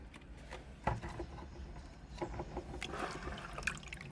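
Banana pulp liquid fertilizer pours onto a potted hibiscus plant, giving a faint, soft trickle and splash over low background noise, with a few small bumps and no talking.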